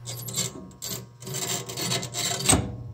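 A harsh, scraping, rasping mechanical grind pulses unevenly from a furnace draft inducer (combustion blower) motor with failed bearings, loud and close with gritty rhythmic surges.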